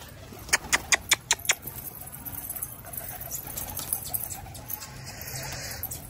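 A quick series of sharp flutters or claps at the start, then soft pigeon coos and faint bird calls over a quiet outdoor background.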